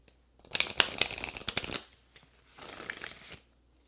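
An Angels and Ancestors oracle card deck is shuffled by hand in two close bursts of papery riffling, separated by a short pause and with no voices.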